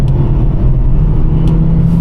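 Vauxhall Corsa driven hard on the road, a loud, steady low engine drone and road rumble from inside the car, sustained without pause.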